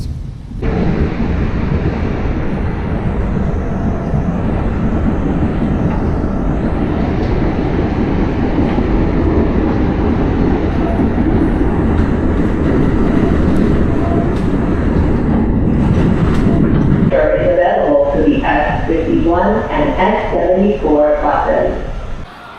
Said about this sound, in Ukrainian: Це типа метро, але як воно працює?